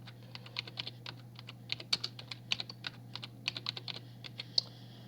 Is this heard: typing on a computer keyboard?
yes